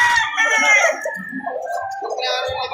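Chickens and a rooster at a poultry market near Victoria and Calauan, Laguna, crow and squawk loudly up close, mixing with people talking nearby.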